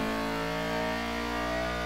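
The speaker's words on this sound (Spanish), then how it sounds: "qué guapo cuando explota ahí el VTEC. Cómo cambia el sonido" Honda Civic EG6 engine on a track day at the Nürburgring, revving hard as VTEC engages, a loud sustained high-pitched wail with rising harmonics, close and steady throughout.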